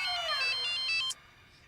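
A mobile phone ringtone plays loudly in a home as a rapid, repeating electronic melody with a falling tone, then stops abruptly.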